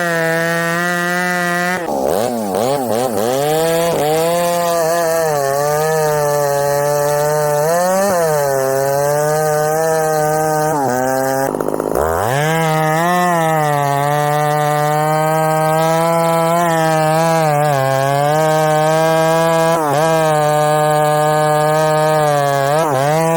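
An Ironhorse 266xp chainsaw with a forged CCC piston runs steadily and loud at close range, its engine pitch rising and dipping through several revs, with a brief cut and sharp re-rev midway.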